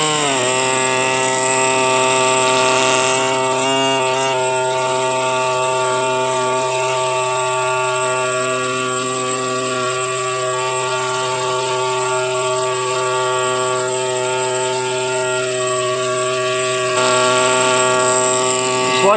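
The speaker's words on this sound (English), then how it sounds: "I'm taking a bunch of rock off real carefully with the big machine, the big chisel bit." A big pneumatic chisel-bit machine grinds rock away from a fossil crab, a loud, continuous high-pitched buzzing whine with steady tones that persists without pause.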